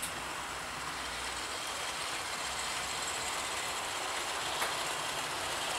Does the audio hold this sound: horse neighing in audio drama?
no